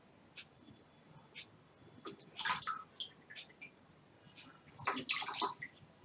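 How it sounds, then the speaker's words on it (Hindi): Cold water poured over a sealed plastic bottle in a home air-pressure experiment, heard as two close, splashing bursts of running water against plastic, separated by quieter dripping, with no talking. "अगर अब इसके ऊपर हम ठंडा पानी डालें तो देखते हैं ये जल्दी से सिकुड़ती है कि नहीं।"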